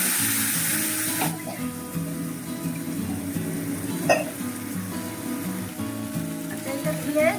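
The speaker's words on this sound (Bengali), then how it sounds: "আমি পেস্ট করে রাখা এই মিক্স দিয়ে দিচ্ছি।" Vegetarian spice paste mix for potol kopta curry hitting a hot frying pan, a steady close sizzle that runs throughout with brief sharper spits.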